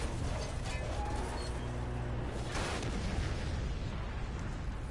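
Gunfire from enemy thugs firing at police in the Marvel's Spider-Man video game comes through as fairly faint, noisy crackling bursts over a dense background, with one sharper burst standing out in the middle.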